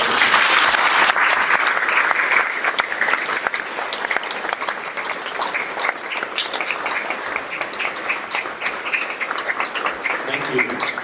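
Audience applause at a world peace tour event in Romania, a dense round of clapping from a crowd that starts strong and gradually thins while continuing to the end.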